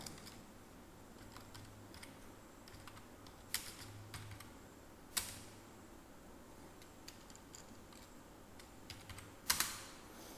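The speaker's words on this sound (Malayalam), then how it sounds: "ആദ്യം എൻ്റെ പേര് നമുക്ക് ടൈപ്പ് ചെയ്ത് നോക്കാം" Faint, quiet computer keyboard typing while a name is entered in MS Word, with scattered soft key taps and a few sharper, louder clicks spread across about ten seconds and no talking.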